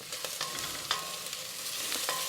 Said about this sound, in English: So we'll just continue to stir these until everything is soft